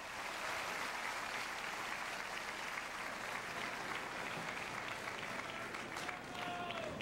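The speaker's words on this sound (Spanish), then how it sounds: "Seguimos con Centella, el aplauso para él aquí en el Patagual." At the Festival del Huaso de Olmué in El Patagual, a festival crowd applauds the performer Centella, with steady, fairly distant clapping that runs for about seven seconds, with scattered voices and whistles mixed in.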